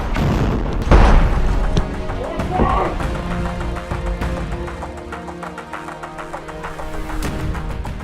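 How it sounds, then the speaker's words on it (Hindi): Rocket strike on an IDF tank in Khan Yunis, Gaza, with a loud deep boom near the start followed by rumbling and scattered crackling blasts as the tank burns. "घात लगाकर रॉकेट से हमला करता है, जिसमें इजराइल का वो टैंक आग के गोले में तब्दील हो जाता है।"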